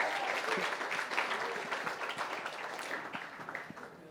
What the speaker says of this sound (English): Let's give another round of applause to Sean and all of our great speakers